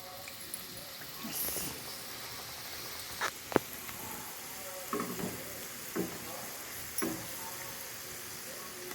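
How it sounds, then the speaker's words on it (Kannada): Samosas made with wheat flour frying in hot oil, a soft continuous bubbling sizzle with occasional sharper pops and crackles, fairly faint, with brief quiet talk in the background. "ಇವಾಗ ಕರೆದಿ ರೆಡಿ ಮಾಡಿದ್ದನ್ನು ಬಿಡ್ತಾ ಇದ್ದಾರೆ ಎಣ್ಣೆ ಎಣ್ಣೆ ಕಾದಿದೆ"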